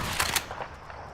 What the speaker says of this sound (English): Let's finally shoot this thing.